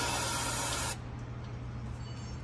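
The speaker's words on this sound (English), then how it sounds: "I spray some brake clean up in the top." Brake cleaner sprays into the top of a Detroit Diesel 6-71 engine part on a GM 4103 bus, a loud close hiss lasting about a second before stopping sharply, leaving a low steady background hum.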